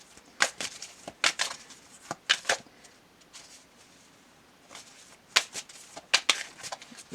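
Tarot cards being shuffled in quick riffling bursts, close by, with short pauses between each shuffle and no talking.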